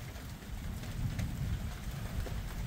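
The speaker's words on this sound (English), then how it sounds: "Rumbles of thunder." Thunder rumbles low and steady through a rainstorm, a continuous deep roll swelling slightly over the patter of rain with no voices.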